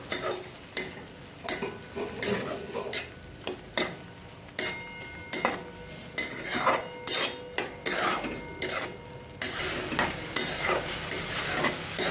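Chopped chili and beetroot being stirred in a pan for masala pasta, with a spoon scraping and clinking in repeated strokes over a soft, steady sizzle, close and moderately loud with no talking.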